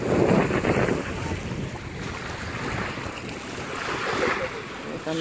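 Rough Black Sea surf at a Gelendzhik beach churns and washes steadily under strong wind buffeting the microphone, a broad continuous roar with swells rising and falling.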